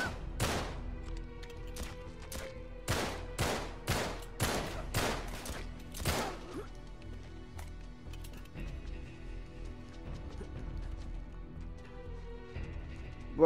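Rapid pistol gunfire in Uncharted 3 (Drake's Deception), a string of sharp, loud shots in quick bursts over the first seven seconds, then quieter mechanical clicks and game ambience.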